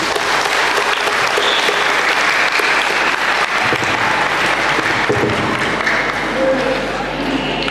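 Audience at a film launch event for an independent santri film breaks into sustained, dense clapping that fills the room, loud and close, with voices mixed in.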